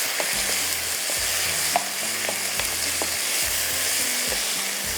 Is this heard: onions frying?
yes